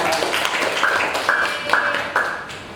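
Students in a school classroom clap together, a dense patter of hand claps lasting a few seconds with a few voices calling out over it.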